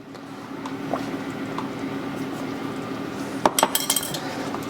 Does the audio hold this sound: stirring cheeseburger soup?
yes